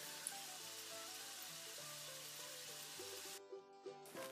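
A patty melt condiment mixture with seasoned salt sizzles steadily in a hot pan, a soft continuous hiss with quiet background music, briefly dropping out near the end.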